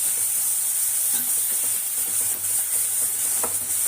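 Tomatoes sautéed and mashed in a hot pan, producing a constant hissing sizzle with faint, soft stirring scrapes and a couple of light taps, no voices.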